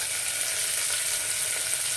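Onions fry in a pan for carrot curry with coriander, mint and green chili, producing a dense, even hiss of sizzling oil heard up close and alone.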